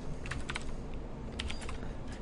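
Quiet clicking of typing on a computer keyboard, with short irregular runs of keystrokes close by and no talk.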